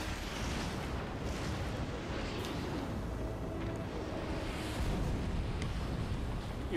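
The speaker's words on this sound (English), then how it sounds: "Missile launch!" Missile launch and blast in the Batman: Arkham City video game, a steady heavy rumbling roar with no break, loud and continuous, swelling slightly toward the end.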